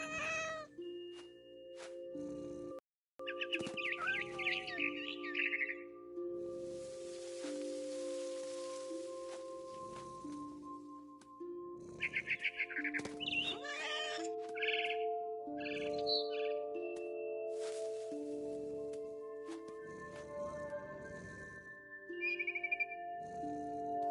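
A frightened bird chirps in short, bright bursts within the video game What Remains of Edith Finch, set over a steady game soundscape with sustained tonal layers, coming in clusters near the start and again midway.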